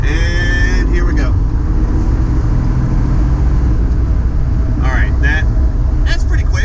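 Ford Bronco with a 4-cylinder turbo accelerating onto a highway, a steady engine and road drone filling the cabin throughout, with a voice speaking briefly over it in a couple of spots.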